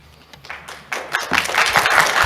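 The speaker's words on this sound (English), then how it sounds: "Hold your applause." Clapping breaks out among the audience at a school board of trustees meeting, starting with scattered claps and quickly building into fuller, louder applause.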